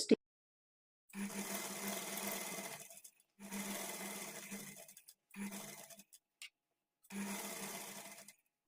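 A sewing machine stitches a blouse sleeve seam in four or five loud bursts of steady whirring, each a second or two long, separated by short silences.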